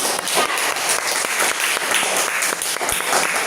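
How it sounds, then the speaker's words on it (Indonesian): A classroom of students claps together in a dense, steady burst of applause that stays loud throughout with little talking. "Tepuk tangan untuk tema."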